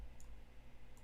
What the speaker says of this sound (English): the clicking from my keyboard, because I'm actually typing stuff